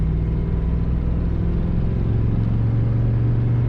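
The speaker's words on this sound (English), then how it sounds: "This car has a sweet rumble to it." A 1956 Mercury Montclair with an automatic transmission idles with a deep, steady engine rumble, loud and close, holding an even tone throughout without any voices.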